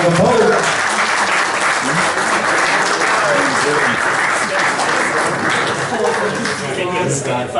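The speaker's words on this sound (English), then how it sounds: "Give him a round of applause" A wedding reception room full of people applauds the best man steadily, dense clapping that stays loud the whole time, with voices mixed in.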